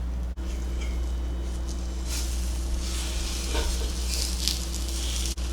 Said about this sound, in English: put a little bit of oil down here, peel it, and start frying it up a little bit